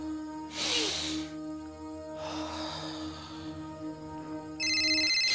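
A phone rings with an electronic ringtone, a tonal chiming melody that carries on steadily across the clip and ends in a brighter repeated beeping burst. The ringing is fairly close and clear, and no one speaks over it.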